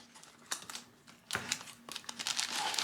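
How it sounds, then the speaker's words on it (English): Crinkling and crackling of an aquarium light's plastic packaging being poked and torn open with a pen, close up, in uneven bursts that grow busier toward the end. "So we'll just use a little pen right there to get this opened on up."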